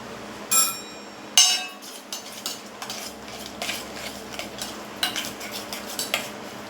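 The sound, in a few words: mixing spices and sesame for methi muthiya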